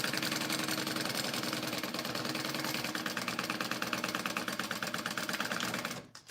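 A sewing machine runs steadily and close, top stitching the folded top edge of a slip pocket on a crossbody bag, with rapid even needle strokes that stop abruptly near the end.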